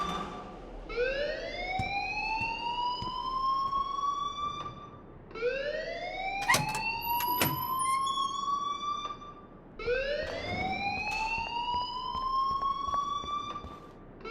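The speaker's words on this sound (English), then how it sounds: "please turn off that alarm since that's your job" In the Life is Strange video game an alarm wails in three long rising sweeps separated by short gaps, loud and continuous, with faint clicks and thuds beneath it.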